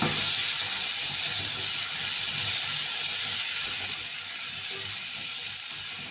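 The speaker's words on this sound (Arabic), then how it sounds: "هسيبها كده بس تاخد لها تشويحه كده مع البصله والثومه قبل ما انزل بالطماطم." Cubed potato sautéing with onion and garlic in a pan gives a steady, close sizzling hiss that runs unbroken and eases slightly toward the end, with no voices.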